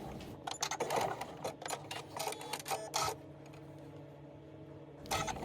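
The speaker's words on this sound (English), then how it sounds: "This part is sped up in time, so don't worry, I don't usually sew this fast." A sewing machine stitches fabric for a bucket, sped up, in quick irregular bursts of rapid mechanical whirring and clatter broken by short pauses, close and without talk.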